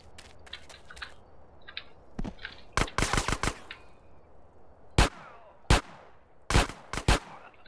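Gunfire during a mission in GTA San Andreas: scattered sharp shots and short bursts ring out at varying distances, some distant and faint, others loud and near, with quiet gaps between.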